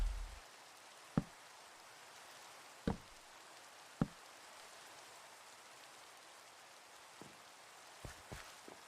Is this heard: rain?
yes